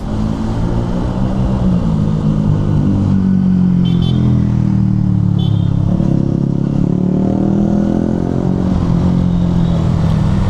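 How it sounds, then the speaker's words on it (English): A motorcycle with a loud exhaust drones and rises in pitch close by in Hanoi, a throaty exhaust rumble swelling midway over steady road noise. "It's like the only bike with a loud exhaust that I've heard."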